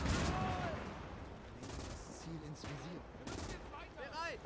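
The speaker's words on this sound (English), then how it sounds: "AT gun is firing" An anti-tank gun fires in a WWII real-time strategy game set on the Eastern Front, with sharp booming shots and scattered gunfire over the battle noise, fairly faint and mixed with talk.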